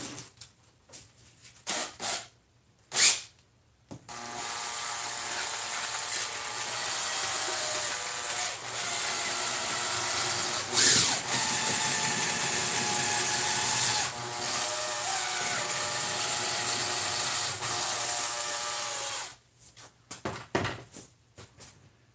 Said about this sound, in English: This is a paint mixer.